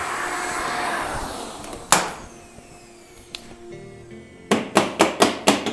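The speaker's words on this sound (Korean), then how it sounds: "청소기를 이용을 해서 깔끔하게 청소가 할 수 있습니다." A vacuum cleaner runs briefly over an Anfim Caimano coffee grinder with a whooshing suction hiss, followed by a loud knock and then a quick series of sharp tapping knocks.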